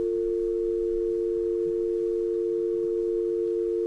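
A steady telephone dial tone hums on the line after the caller hangs up, a single continuous pitch held alone for the whole stretch with no voices.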